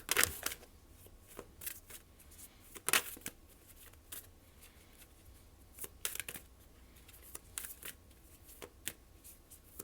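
A deck of tarot cards is shuffled and cut by hand, with sharp riffles and flicks in separate bursts against near silence.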